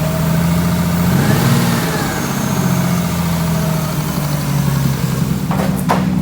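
A cammed Nissan R33 Skyline engine idles with a lumpy, uneven note and revs up briefly, loud and close, its rough rhythm holding steady throughout.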